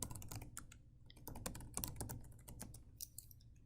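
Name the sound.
typing login details on a computer keyboard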